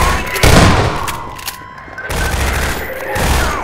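A close, loud volley of gunfire in Half-Life 2 sounds as heavy, booming bursts, one near the start and another after a short lull, each trailing into a rumbling decay.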